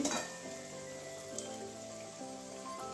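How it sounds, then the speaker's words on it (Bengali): Papad frying two at a time in hot oil, a faint, steady crackling hiss with soft bubbling pops. "এভাবে একসঙ্গে ভাজছি না দুটো দুটো করে ভেজে নিচ্ছি"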